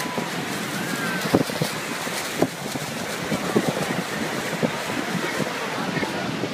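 The roar of the Horseshoe Falls in Canada, a large waterfall, forms a steady broadband rush with occasional thumps, under wind buffeting the microphone and faint voices.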